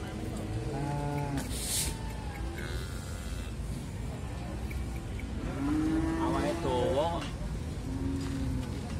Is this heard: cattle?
yes